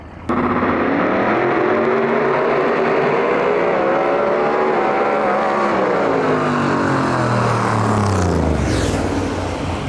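A third-generation Camaro race car blasts past on a drag strip, its loud engine roar sustained and close, pitch sweeping as it accelerates and passes by; no talking.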